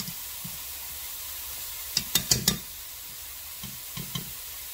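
Oyster mushrooms dipped in wet batter and flour, frying in hot oil with a constant sizzle, plus a cluster of sharp clicks and clacks from utensils against the pan and a couple more later.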